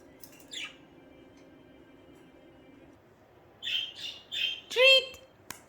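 Pet budgies squawk and chirp at close range in a home: a brief call early on, then a burst of several loud squawks near the end after a quiet stretch of room noise.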